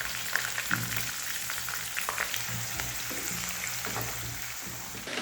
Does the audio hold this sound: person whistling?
no